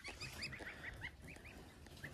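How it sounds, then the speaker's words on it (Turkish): Several geese honk in short repeated calls, with a pied crested goose among the flock, the honks close and fairly loud over a steady outdoor background. "Alaca bir saçaklı kaz var"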